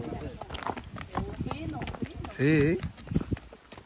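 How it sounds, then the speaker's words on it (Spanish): Horse hooves clip-clopping at a fine, even gait on a rural road in Paraje del Cupey, Puerto Plata, Dominican Republic, close by under near-continuous conversation, with one loud sustained vocal burst in the middle. "pisa fino el caballo"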